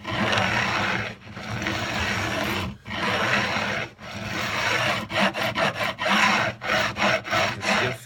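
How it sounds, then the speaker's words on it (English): Sharp metal frets on a cigar box guitar neck being filed by hand, a steady rasping scrape that breaks into short, rhythmic back-and-forth strokes toward the end, close and fairly loud. "That's where I'm filing on the file there."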